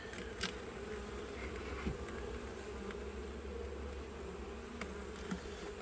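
Honey bees at a hive being inspected make a dense, steady buzzing hum, with occasional individual bees passing close by.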